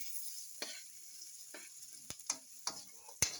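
Mustard greens and pechay cooking in a pan, a soft sizzle under several sharp spatula scrapes and taps as the greens are stirred, close but quiet.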